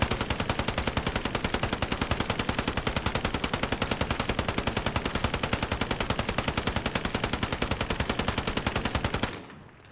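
A light machine gun fires one long unbroken burst in Call of Duty: Modern Warfare, with rapid, evenly spaced loud shots for nearly ten seconds before cutting off abruptly.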